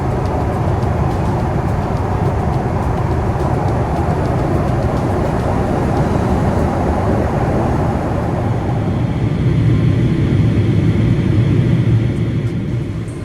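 Steady loud airliner cabin rumble during landing in Singapore, a continuous broadband roar of engines and airflow filling the whole stretch, swelling slightly near the end with no talk.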